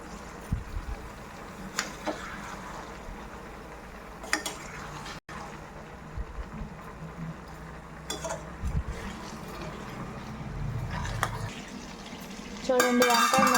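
Brinjal pieces stirred with rock salt in a frying pan, a spoon scraping and clinking against the pan in scattered bursts over a soft sizzle, close by, with a louder clatter at the end.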